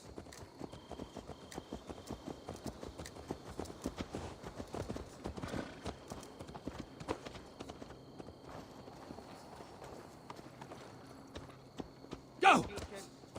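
Horse hooves clip-clop steadily in Assassin's Creed Valhalla, a game soundscape with an ongoing voice over the top and a sharp louder burst near the end.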